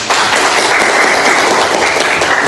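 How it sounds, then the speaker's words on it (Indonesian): A classroom group claps for a student who has just answered: steady, dense applause from many hands at close range, loud and even for a couple of seconds with no voices over it. "tepuk tangan"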